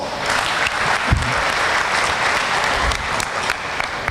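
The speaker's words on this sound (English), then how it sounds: "Let's give her a round of applause." Audience at a large event gives a loud, sustained round of applause, dense clapping close up that stays steady for the full few seconds.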